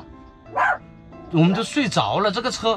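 A small dog yaps and barks inside a camper van at night on a camping trip in Tibet, a short sharp bark followed by a longer run of yelping under a voice talking nearby.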